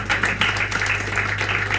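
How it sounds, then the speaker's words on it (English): An audience at a youth dialogue festival gives the Governor a hearty round of applause, a brief, steady patter of many hands over a constant low electrical hum. "give His Excellency the Governor a very hearty round of applause"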